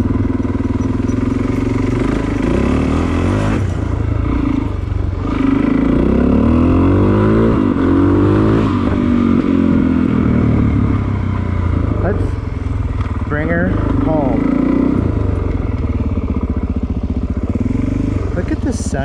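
A dual sport motorcycle's engine drones and revs while riding on an urban trail on a sunny day, loud and close, with the pitch rising and falling as the rider throttles, and a rider talking over it at times.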